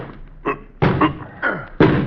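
A locked door is forced open in a 1954 Dragnet radio drama, with four heavy thuds and slams against the wood, spaced about half a second apart, loud and close with no talk over them.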